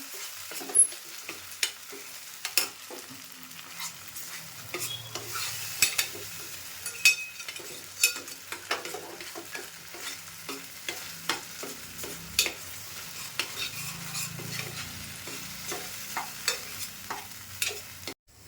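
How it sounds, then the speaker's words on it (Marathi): Ground masala paste sautéing in oil in a pan for a spicy egg gravy, a soft continuous sizzle broken by regular sharp scrapes and taps of a spoon stirring throughout. "थोडं 2-3 मिनटं परतून घ्यायचं."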